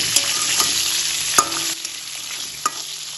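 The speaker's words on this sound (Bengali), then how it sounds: "চিকেনটা ভেজে নেব" Chicken pieces with salt and turmeric fry in oil in a pan, a close steady sizzle broken by a few sharp clinks of stirring, easing slightly in the second half.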